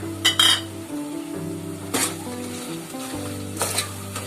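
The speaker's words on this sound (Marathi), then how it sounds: "चांगलं मिक्स करून घेऊया आपण." Peas being stirred in a sizzling pan for paneer matar pulao, with a few spoon clinks against the pan and a steady background hum, no voices.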